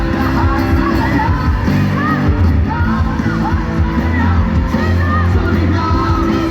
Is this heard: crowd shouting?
yes